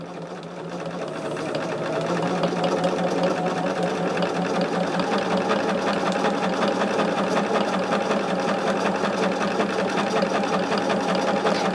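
A sewing machine stitches quilt seams in a steady, continuous run, holding a fast, even mechanical rhythm at moderate volume close by after a short start, with no voices.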